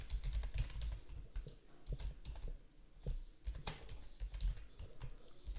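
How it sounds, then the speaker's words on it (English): Someone types on a computer keyboard, producing a steady run of close, crisp key clicks with uneven rhythm and no talk. "I will type my name,"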